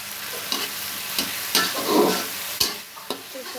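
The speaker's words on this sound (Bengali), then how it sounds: "এখন ওদেরকে ডিমের ঝুড়ি করে দেবো" Scrambled eggs with chopped tomato frying in a pan, a steady close sizzle broken by several sharp spatula clicks and scrapes against the pan.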